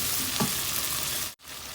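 Buttered garlic shrimp sizzling and frying in a pan, a steady close hiss with faint stirring, cut by a brief dropout near the end.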